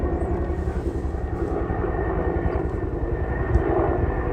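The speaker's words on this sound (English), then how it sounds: "There's the helicopter with the water balloon." A firefighting helicopter carrying a water bucket drones steadily overhead at the El Dorado fire in California, its rotor and engine noise a continuous low rumble with slight fluctuations, no voices present.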